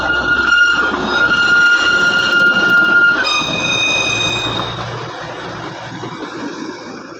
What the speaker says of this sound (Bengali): এখানে অটোমেটিক ট্রেন চলে আসছে গাইজ দেখতে পাচ্ছ ট্রেন